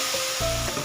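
Ginger-garlic paste and a splash of hot water hit a hot frying pan, giving a steady, loud sizzle with a brief stir partway through.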